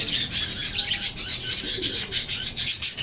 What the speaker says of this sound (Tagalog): Ang mga alaga kong parakeets dumarami na